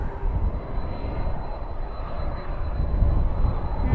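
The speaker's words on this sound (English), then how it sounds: "you can start to hear the engine starting on that UPS" A deep, steady aircraft engine rumble fills an airport at night, with a thin whine riding above the low roar of the running jet, close and loud without any voices.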